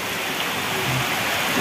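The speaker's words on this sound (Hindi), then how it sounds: "ठंडी हवा चल रही और बारिश में साथ हवाएं चल रही, तो बारिश टेढ़ी आ रही इधर कमरे के अंदर" Heavy monsoon rain driven by wind in an Uttarakhand village, a dense, steady hiss of falling water close by, continuous and loud with no voices.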